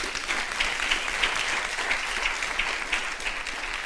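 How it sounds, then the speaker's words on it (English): A college audience at a women-in-engineering roundtable gives the panel a steady round of applause, a dense, even wash of clapping with no voices on top. "A round of applause to our panel."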